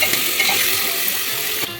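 Onions sizzle hard in hot oil in a pan, a dense, steady hiss that stays close and loud, with faint stirring scrapes now and then.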